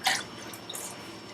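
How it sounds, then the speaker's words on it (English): Fresh apple juice is poured into a vessel of homemade vinegar with a floating mother, giving a brief close splash and drip at the start that fades quickly into quiet. "Pour it into the vinegar."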